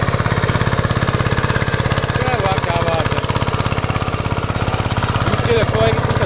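A 6.5 hp rotavator engine with a laser attachment runs steadily under load, a loud, fast, even chugging throughout, with faint voices underneath.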